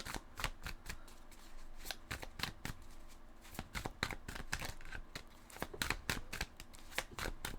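Tarot cards shuffled by hand in rapid riffling bursts, a dense run of crisp flicks and slaps repeating close up with brief pauses, no voice over them.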